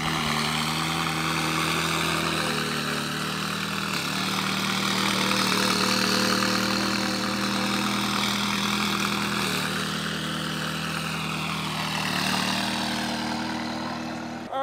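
A modified McLaren 570's engine gives a deep, steady rumble with harmonic drone, swelling and easing slightly as the car slowly reverses, loud and close with no talking.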